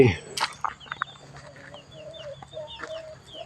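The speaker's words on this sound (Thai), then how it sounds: "มีน้องไก่ รอต้อนรับอยู่ในนี้" Chickens at a temple cluck softly nearby in short repeated bursts, with a few sharper calls and some faint rustling in the background.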